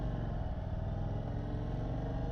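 An Indian Super Chief Limited motorcycle being ridden, its engine giving a steady low rumble with a constant droning tone and no clear revving, heard close and alone.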